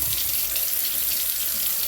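Water from a pot of cooked noodles rushes steadily into a colander in a sink, a loud, continuous splashing with no talk.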